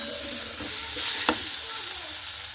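Mashed potatoes being stirred together with onion in a pan, a steady soft sizzle with scraping stir strokes and one sharp spatula knock near the middle.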